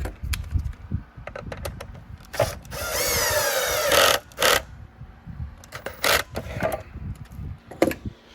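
A power driver briefly whirs, driving a screw and retainer washer back into a Riccar Supralite vacuum, one sustained buzzing burst amid clicks, handling knocks and short tool bursts nearby, no talking.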